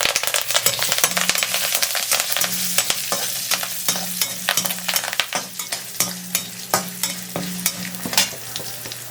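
Dried red chillies and a sprig of curry leaves fry in hot oil for an eggplant kulambu, a steady crackling sizzle broken by repeated scrapes and taps of a stirring spoon against the pan.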